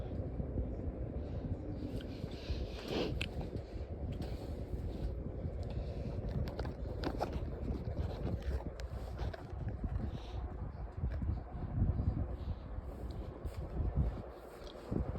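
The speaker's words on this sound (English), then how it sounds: "You probably hear the motor, it probably sounds bad." A 1998 Boston 16-inch pedestal fan runs with a steady, rough whooshing motor hum and broadband airflow noise, continuous and fairly loud throughout with slight fluctuations, no speech.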